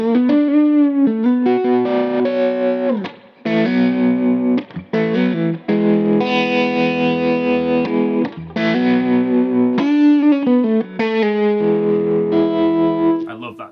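A Gibson Les Paul Special electric guitar with P90 pickups, set to bridge and neck together, plays loud chords and riffs through a driven amp with short breaks between phrases.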